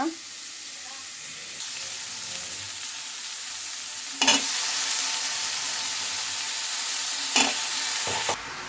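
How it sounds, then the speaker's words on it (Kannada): Pumpkin pieces tumble into fried onions for a pumpkin palya and are stirred in a pan, giving a steady sizzle broken by scraping stirs and a few louder clatters, close by. "ಈಗ ಚೆನ್ನಾಗೆ ತೊಳೆದು ಎತ್ತಿಟ್ಕೊಂಡಿರೋ ಅಂಥ ಕುಂಬಳಕಾಯಿಗಳನ್ನ ಹಾಕ್ಬಿಡೋಣ."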